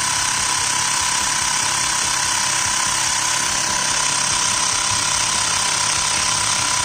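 A Mi portable electric air compressor, set to 60 psi, inflates a tyre with a loud, steady buzzing rattle that runs without a break right up close.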